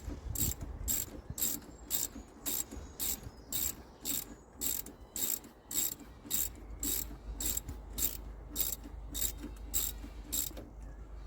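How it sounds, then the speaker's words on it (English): A 3/8 ratchet turning a brake caliper bolt on an Iveco Daily mk3 van, giving a steady, rhythmic series of sharp metallic clicks, about two per second, heard close and alone. "That's going to be so much easier if I put this in a 3/8 ratchet."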